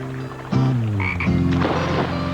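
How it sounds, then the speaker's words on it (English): Frogs croak in a loud, close series of low, throaty rattling calls, overlapping and drawn out over a couple of seconds with no talk. "We're going frog hunting."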